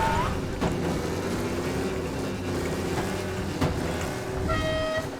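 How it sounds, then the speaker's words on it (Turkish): A car horn in the video game Mafia: Definitive Edition gives short toots near the start and again at the end, over a steady rumble of engine noise. "Bunun kornası da farklıymış"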